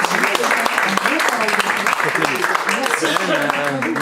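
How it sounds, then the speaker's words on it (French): An audience at a French-language meeting applauds with dense, continuous clapping for the full span while a voice talks over it. "Oui, on peut les applaudir."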